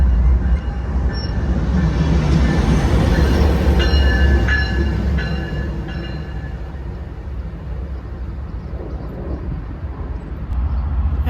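Locomotive CP 8310 shoves a train back onto track 646, a heavy, steady rumble of rail cars and engine at moderate distance, with faint squeals and clanks rising midway.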